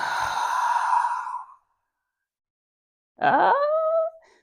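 A person's breath imitates ocean waves: a long drawn-out exhale, a pause of silence, then a second breath that rises and fades like a wave.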